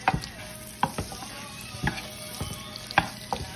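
Potatoes fry in a pan, a soft continuous sizzle broken by several sharp scraping and stirring knocks at irregular intervals, close and moderately loud, with no speech.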